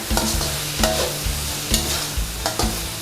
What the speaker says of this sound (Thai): ตับหมูก็ใช้เวลาผัดไม่นานนะคะ